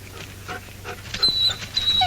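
A hurt, limping dog whimpers softly in an old radio drama set in the Yukon, faint thin whines over a low background hum with no talk.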